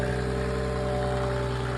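A diesel motor pump for irrigation, driven by a Mercedes OM606 engine taken from a W210 and coupled to a PN40 pump, runs steadily at close range with a constant mechanical drone and no talk.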